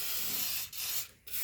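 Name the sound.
spraying zinc coating inside a 1985 Mercedes 300TD wagon body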